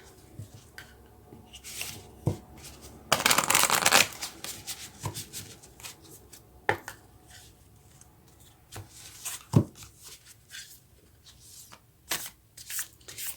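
A deck of Moonology oracle cards is shuffled up close, with a dense riffling burst followed by lighter, intermittent flicks and slides of the cards.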